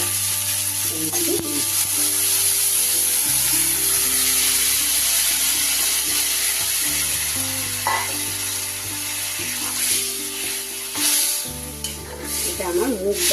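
Boiled moong dal tipped into a pan of fried vegetables and tomato, sizzling loudly and steadily while being stirred, with a continuous hissing fry and occasional scraping of the spoon, no talking.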